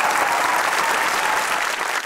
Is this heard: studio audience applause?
yes